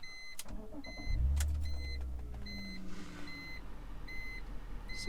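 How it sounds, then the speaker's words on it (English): A BMW E46 car starts up with a brief cranking surge and the engine catching into a steady idle, while repeated electronic chimes beep at an even rhythm from the cabin, close and moderately loud. "but let's turn the car back on."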